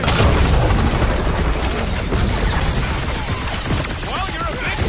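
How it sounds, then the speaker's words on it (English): Smart bombs go off in the Guardians of the Galaxy video game, a dense, loud barrage of explosive blasts and crackling fire that rolls on without pause, with game sounds layered over it. "Bust out the smart bombs!"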